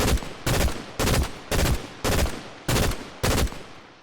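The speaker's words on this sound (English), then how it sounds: "this is the assault rifle" Seven loud, evenly spaced bursts of assault rifle fire in Fortnite, each a short broadband rattle about half a second apart, close and punchy with no talking.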